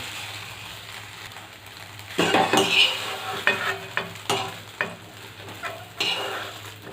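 Eggs frying in a pan for egg fried rice, a steady sizzle broken by repeated scraping and stirring strokes of a spatula, close and fairly loud with no voices.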